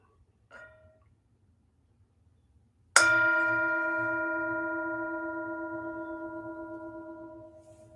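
A single resonant bell at a Sunday mindfulness service, struck once and ringing with a long, slowly pulsing decay that fills the quiet room after a faint earlier tap.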